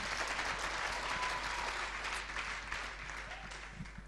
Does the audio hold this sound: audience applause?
yes